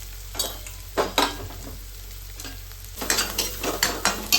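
Garlic and green chillies sautéing in a pan, a low sizzle punctuated by several quick scraping stirs that cluster more busily toward the end.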